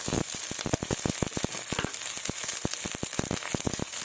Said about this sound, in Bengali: পরিমাণ মতো লবণ দিয়ে তাকে ভালোভাবে কষিয়ে নেব